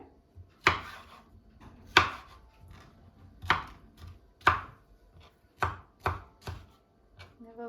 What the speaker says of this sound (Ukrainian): нарізаю кубиками.